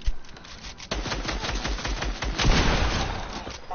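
Pistol gunfire in a video game, with rapid, loud, closely spaced shots and clattering impacts that fire almost without pause, swelling in intensity partway through.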